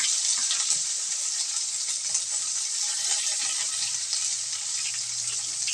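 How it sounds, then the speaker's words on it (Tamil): Onion and green chilli sautéing in a pan with cloves and fennel for a vegetable kurma, a steady broadband sizzle filling the whole stretch at close range, no voice. "இப்போ இதை நல்லா நம்ம வதக்கி விட்டுக்கலாம்"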